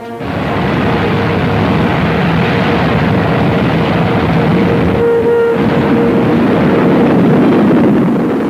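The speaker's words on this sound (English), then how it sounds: "Jet-propelled, the V-2 rises faster and faster until a speed of 50 miles a minute is attained." A World War II V-2 rocket launching, from a 1945 newsreel: a loud, steady, unbroken roar of rocket thrust that fills the whole stretch, with a faint tonal whine partway through.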